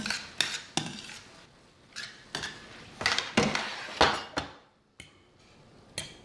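A utensil clinks and scrapes against a pot while noodles are stirred, producing a dozen or so sharp metallic knocks in irregular bursts, close and clear with short quiet gaps between them.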